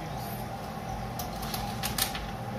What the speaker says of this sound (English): The chopping be taking up the time.